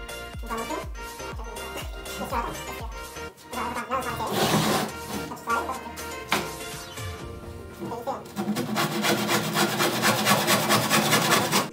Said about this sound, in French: il ne vous reste plus qu'à le suivre maintenant et découper sur toute la longueur de la palette